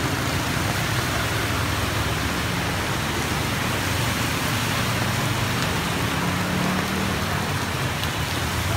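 Heavy rain pours steadily onto flooded Saigon streets, a dense unbroken hiss and patter with faint traffic rumbling underneath, constant and close throughout.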